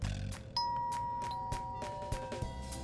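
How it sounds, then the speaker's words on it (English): A doorbell rings in a visual novel video game, a clear ding-dong chime standing out over soft background music with light percussive taps, fairly quiet and with no speech. "The bell rings and no one answers."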